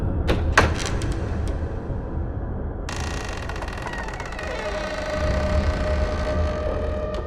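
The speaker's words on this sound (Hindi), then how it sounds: "तभी किसी ने दरवाजा खोला।" A door opens as a sound effect in a Hindi horror story set in a haunted bungalow: a few sharp knocks, then an abrupt creaking shift into a long, scraping drag with a thin rising tone.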